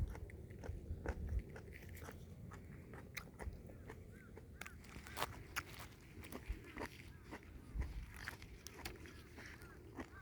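Crisp bites and crunchy chewing on a fresh garden carrot pulled from the soil outdoors, repeated sharp crunches close to the mic over a steady outdoor background.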